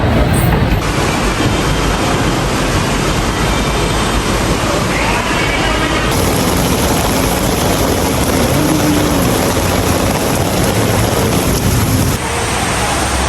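An LRT light rail train runs with loud, continuous roaring and rattling, nearby and steady, with a brief shift in tone partway through.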